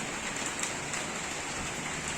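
Steady rain falls near a flooding river with bamboo growing on the slope below. The patter is a soft, even, continuous wash with no break.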